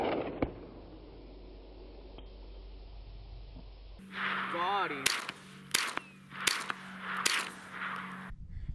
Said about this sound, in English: first from back here, I'm gonna shoot those cans of beans.